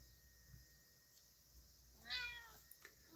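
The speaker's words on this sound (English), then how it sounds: "my cat is meowing at me." A house cat gives one short, fairly close meow in a quiet indoor room, followed by a couple of faint small knocks.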